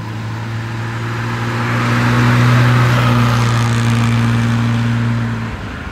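A 1969 Mercedes 280 SL Pagode with its hardtop fitted drives past: a smooth, steady engine hum rises gently in pitch and loudness, holds, then fades out after about six seconds, with no voices.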